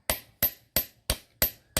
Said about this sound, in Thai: ตอกตะปูเข้าไปครับ